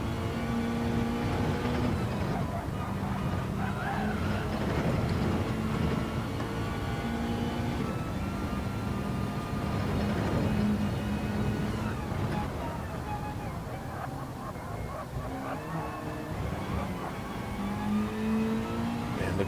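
A race car engine in a racing video game drones steadily and loudly throughout, with rising and falling pitch as it revs and accelerates, continuous with no pauses.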